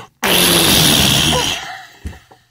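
A person imitates a fart into a microphone: one loud, close, raspy breath burst lasting about a second, fading into a short quieter tail.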